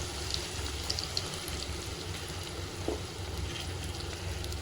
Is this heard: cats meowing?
no